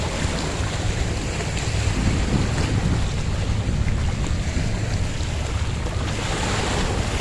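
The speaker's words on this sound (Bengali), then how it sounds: "কি সুন্দরভাবে সমুদ্রে ঢেউ এসে আসছে পড়ছে পাথরের গায়ে, আর ছলাৎ ছলাৎ শব্দ করছে।" Sea waves washing against rocks on Palawan Green beach in Singapore, a loud continuous roar of surf with heavy wind rumble on the microphone and no distinct individual splashes.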